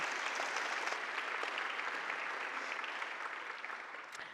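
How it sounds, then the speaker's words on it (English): Audience applause at a speaker-series event, a full, even roar of clapping from a large hall that slowly tapers off toward the end, with no voices over it. "let's give a big round of applause for Samaritan Counseling"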